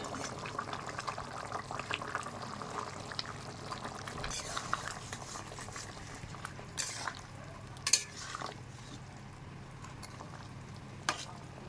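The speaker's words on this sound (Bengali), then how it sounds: "এবার ভেজে রাখা মাছগুলো দিয়ে দেব।" Fried fish pieces go into a simmering taro curry, giving a bubbling, stirring liquid sound with occasional sizzles and clinks of a utensil against the pan, moderate and close.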